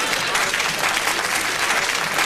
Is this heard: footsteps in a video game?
no